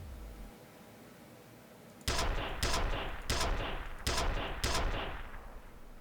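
Video game gunfire: four or five loud, sharp bursts of shots in quick succession after a quiet opening, each ringing out briefly before the next.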